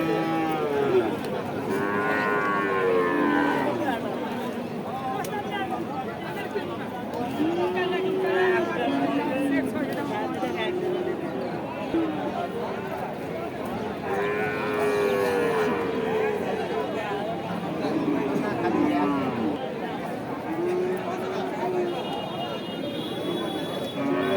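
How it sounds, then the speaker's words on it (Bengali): Many cattle at a livestock market moo repeatedly, some near and some farther off, over a constant babble of crowd chatter and voices in a busy outdoor gathering. "অনেক গরু আসছে হাটে"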